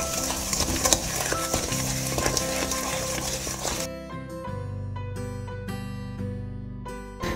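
Spoon mixing cookie dough with an egg in a bowl, a loud, close, wet scraping and stirring that continues throughout, partly covered by background music.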